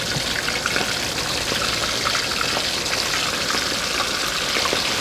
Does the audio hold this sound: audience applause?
no